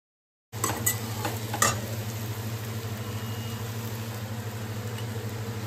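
Potatoes and onions fry with cumin, turmeric, chili powder and ginger-garlic paste in a hot pan, a steady loud sizzle starting abruptly after a brief stir clatter and continuing unbroken, with no talk.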